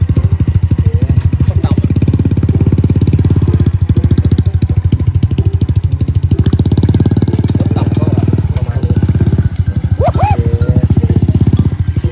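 A Honda Wave 110i motorcycle fitted with a TSK exhaust runs loud and close, its engine throbbing steadily with a buzzing exhaust note and brief rises in revs throughout.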